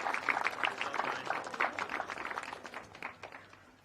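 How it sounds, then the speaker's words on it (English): Audience applause rings out for the Mini 60 category finalists at a Champions of the Future Academy karting event in Al Ain, a dense steady crowd clapping that peaks and slowly fades. "One more big round of applause for your Mini 60"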